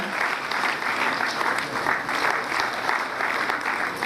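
Parents in an audience applauding at a kindergarten annual function, a thick, even wash of clapping that holds steady from start to finish without talk.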